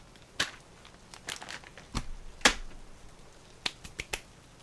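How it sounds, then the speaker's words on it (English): A pound of dice rolling and clattering against wood, heard as a scatter of sharp, close clicks and taps in uneven bursts with quiet gaps between them. "that's what a pound of dice sounds like against wood"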